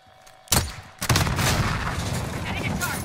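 Gunfire in a first-person shooter video game with a Kar98K rifle, two sharp loud shots half a second apart followed by continuous battle noise, with voices shouting over it.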